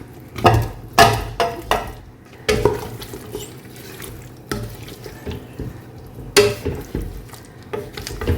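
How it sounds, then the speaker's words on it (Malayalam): Fried chicken pieces are dropped into biryani masala in a pot, making wet, squelching thumps and clatters of a spoon against metal, in irregular bursts close up with quiet gaps between. "ഇനി ഇതിലേക്ക് നമുക്ക് വറുത്ത് വെച്ചേക്കുന്ന ചിക്കൻ ഇട്ട് കൊടുക്കാം"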